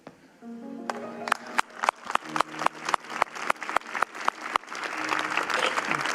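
Church audience applause after a story, beginning as distinct rhythmic group claps in a steady beat over fading music, then swelling into a loud, dense wash of clapping.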